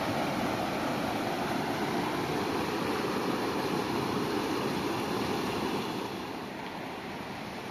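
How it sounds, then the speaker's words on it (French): A waterfall and cool spring water rush steadily in a broad, loud, unbroken roar around bare feet standing in the stream, with no voices. "j'étais les pieds dans l'eau pour vous filmer la cascade en direct"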